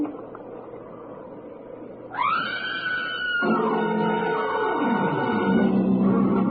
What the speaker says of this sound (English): scream. Long and loud, huh?